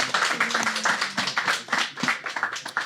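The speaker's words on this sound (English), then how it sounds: "Let's give our panelists one more round of applause" Audience applauding panelists at the close of a panel discussion on entrepreneurship, a moderate patter of individual hand claps from a small crowd with audible separate strikes.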